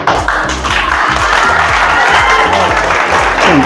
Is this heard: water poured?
no